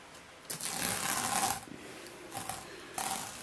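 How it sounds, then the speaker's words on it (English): Tape peeled off an acrylic canvas painting in a few crackly strips, close and moderately loud, two longer tearing pulls followed by shorter ones with brief pauses between. "we'll take off our tape now"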